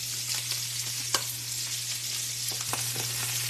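Salmon fries skin-side down in a pan over medium-high heat, giving a steady, even sizzle with small crackles and pops, under a low constant hum and without any talking.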